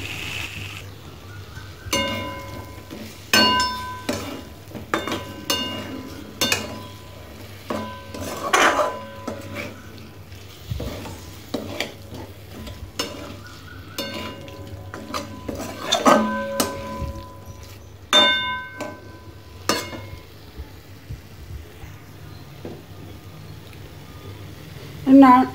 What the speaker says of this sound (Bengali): তো এটাকে এবার নাড়াই।